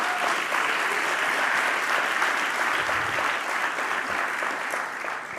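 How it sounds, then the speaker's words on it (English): Live audience at a book festival event applauding steadily, a dense, even clapping from a sizable crowd that holds for several seconds before tapering slightly. "Round of applause, please."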